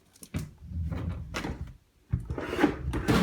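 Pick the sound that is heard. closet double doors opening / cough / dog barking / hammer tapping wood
closet double doors opening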